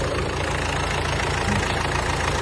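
A 2019 Kia Sportage engine idles with a loud, steady, close drone that holds even throughout.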